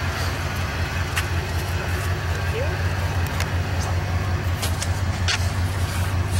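Chevrolet Impala SS idling with its nitrous kit just removed, a steady low engine rumble running throughout at close range with a few faint clicks and background noise on top.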